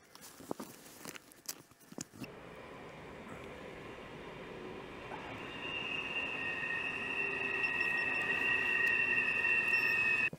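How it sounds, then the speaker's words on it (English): A train rumbles past at a distance, a broad steady roar building gradually with high metallic squealing from the wheels toward the end. "it was just a train coming through"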